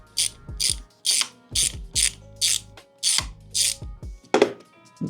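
A hand ratchet clicking as a unit is tightened inside a tank, close and crisp, in about a dozen short, evenly spaced bursts of rapid pawl clicks.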